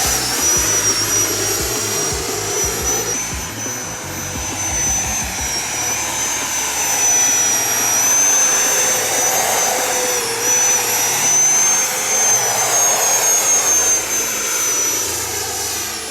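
Freewing Ares 90mm electric RC jet, stock on an 8-cell system, flying with a steady loud ducted-fan whine and high tonal screech that swells and fades as it passes overhead, no voices.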